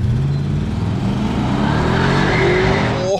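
Loud engines of an Audi RS Q8 and a Mercedes-AMG GLE 63 S roar and climb in pitch together as they accelerate hard off the line in a drag race, close by and continuous.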